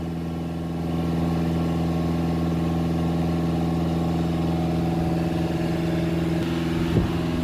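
An Audi A6 Ultra 2.0 TDI diesel engine with a particulate filter fault idling steadily, a constant low hum with a smooth, even drone held close by and no talk.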